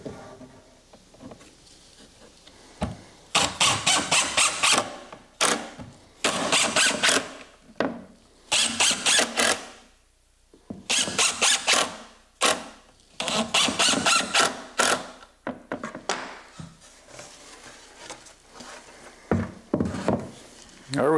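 A power driver runs wood screws into a glued part of a woodworking miter saw station, giving repeated loud, broadband whirring bursts of a few seconds each with short pauses between, alone.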